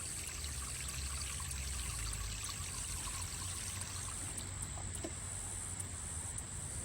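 A small fountain pump in a shallow bird bath squirts water upward, producing a continuous soft splashing trickle, fairly quiet and steady, with no talking.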